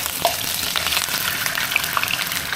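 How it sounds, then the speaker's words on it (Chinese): A salmon head pan-fries in a wok, giving a close, continuous sizzle dotted with small sharp crackles and pops throughout, with no voices. "给它放锅里煎一煎"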